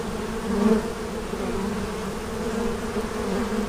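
A honey bee swarm settled on six frames hums with a dense, steady buzz, close and continuous throughout, with no voices.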